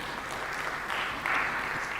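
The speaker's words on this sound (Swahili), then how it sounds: "naye tumpigie makofi" An audience at a national science, technology and innovation conference claps for a speaker, a steady patter of applause that swells slightly toward the end of the brief moment.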